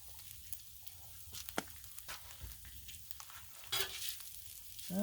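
Onions, peppers and meats fry on a Blackstone griddle with a steady close sizzle, broken by scattered scraping and stirring clicks and a louder hiss burst near the end, with no talking.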